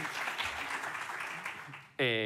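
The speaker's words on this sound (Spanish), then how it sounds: "Un aplauso." An audience at a writing-school talk with an author applauds in a soft, sustained patter of many hands that fades toward the end before a voice begins speaking.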